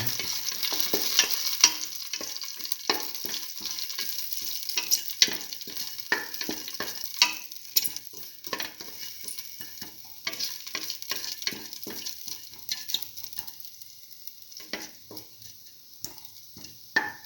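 Eggplant sautéing in a pan, with a steady sizzle and frequent scraping, tapping stirs from a utensil, close and fairly quiet with no talking.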